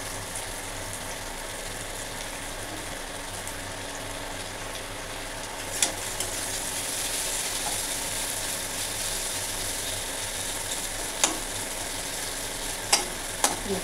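Slices of bitter gourd crackle in hot oil with a steady, near sizzle. It is broken by a few sharp metallic clicks from a spatula or pan, and nobody speaks.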